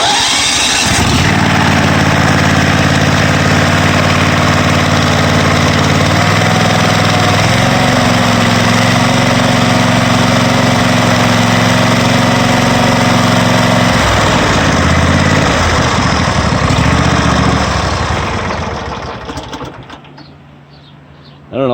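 A Cub Cadet Super LT1554 lawn tractor engine runs steadily at close range with a loud, even hum that shifts pitch as the throttle changes, then cuts off near the end.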